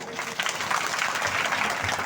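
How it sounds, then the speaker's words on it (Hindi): Audience applause at a large tent rally, a short burst of dense, loud clapping from many hands with crowd noise, steady across its two seconds. "अपने लिए जोरदार ताली पहले"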